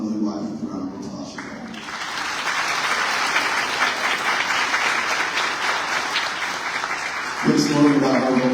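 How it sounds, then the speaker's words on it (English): A round of applause at a commitment ceremony honoring a man's wife, swelling into sustained clapping from a room full of people after a brief spoken lead-in, with talk resuming at the end. "can you guys please help me honor my lovely wife with a round of applause?"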